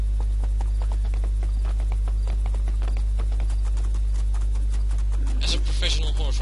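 Horse hooves gallop in a steady clip-clop rhythm while riding in the fantasy game Two Worlds 2, with a constant low hum underneath and a brief brighter burst near the end.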